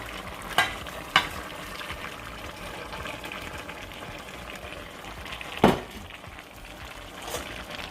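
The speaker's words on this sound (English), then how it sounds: "Now I'm gonna add some green beans. And remember, it has to be frozen green beans." Frozen green beans are added to a pot of simmering Canadian beef stew, with a few sharp clicks and knocks against the pot over a steady, low bubbling hiss.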